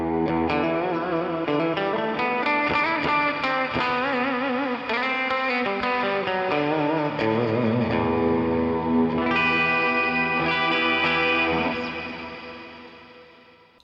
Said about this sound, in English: you can hear what it sounds like with like a pretty heavy reverb and a pretty heavy delay